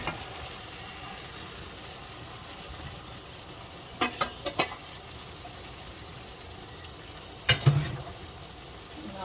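Frozen ingredients for a Phagwah seven-curry spread hit a hot pot with a steady hiss, broken by a few sharp clatters and stirring knocks at close range, with no talk.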